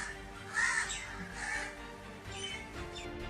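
A crow calls with several harsh caws spaced about a second apart, fairly close and clear over a faint background.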